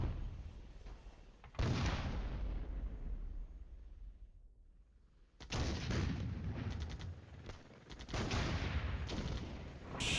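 Gunfire and artillery in the war strategy game Wargame crackle and boom in dense bursts, with heavy, sustained rumbling volleys broken by a brief lull before the firing resumes loudly.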